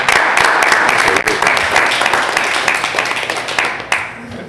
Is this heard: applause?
yes